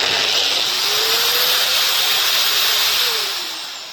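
A MAXXT 820W giraffe drywall sander with variable speed spins up gently, a steady broadband whir rising and holding close and loud, then easing off slightly toward the end, with no voices.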